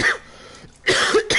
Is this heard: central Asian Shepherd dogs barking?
no